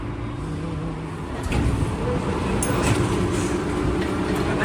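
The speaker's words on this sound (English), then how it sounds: "Waiting on the train to go to the E terminal." An automated people-mover train at an airport terminal rolls in with a steady low rumble and rising hiss in an indoor space, growing slightly louder as it arrives, with no talking.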